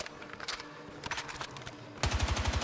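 Automatic fire from the TR7 rifle in Battlefield 6, sounding as a fast, hard-kicking string of shots. A busy spread of scattered, quieter battle noise comes first, then a loud, evenly paced close burst closes it out.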